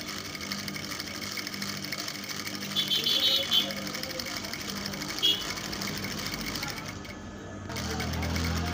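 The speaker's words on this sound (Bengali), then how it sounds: "এবার আমি কলারটা সেলাই দিব।" A sewing machine stitching a Ben collar on a kameez whirs steadily at close range, with faint stitching clicks, while a voice talks over it.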